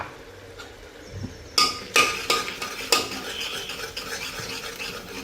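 Misal masala with turmeric and red chilli powder sautéing in oil as a spoon clinks and scrapes against the pan, a few sharp metallic taps then continuous stirring over a gentle sizzle.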